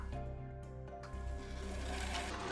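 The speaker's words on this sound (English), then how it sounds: "sew this along the edge" Sewing machine running steadily as it stitches fabric for a face mask, a close, continuous mechanical whir with a brief change in pace partway through, no talking.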